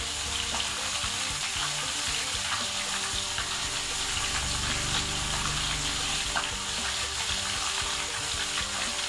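Fish frying in hot oil, a dense, steady sizzle and crackle that stays loud and close for the whole stretch with no voices.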